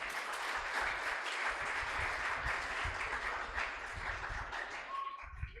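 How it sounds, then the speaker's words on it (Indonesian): A seminar audience gives sustained applause, a dense, even wash of many hands clapping that holds steady throughout the hall. "Tepuk tangan"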